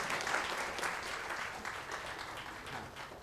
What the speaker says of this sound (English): big round of applause for the HR Circle team